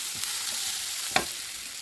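Lemon rice being mixed in a frying pan on the stove, a soft steady sizzle with light scraping and one brief sharper clink of the spoon partway through, close and alone.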